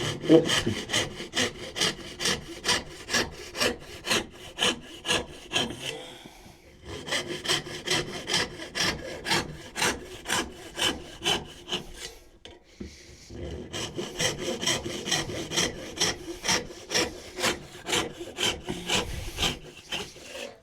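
A hand saw cuts through walnut wood in rhythmic back-and-forth strokes, close and clear, with two brief pauses between runs of steady rasping strokes.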